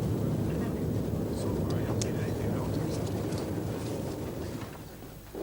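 Aircraft engines run at Patriot Hills in Antarctica, a loud, steady low roar that eases slightly toward the end, with faint talk in the background.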